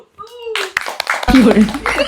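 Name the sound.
people clapping hands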